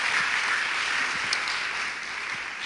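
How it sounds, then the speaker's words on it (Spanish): An audience claps together at a conference session, steady dense applause heard close and fairly loud, fading slightly toward the end. "Un aplauso, por favor."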